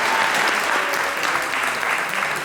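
Steady, dense audience applause fills the studio of a talk show, loud and continuous throughout with no speech over it.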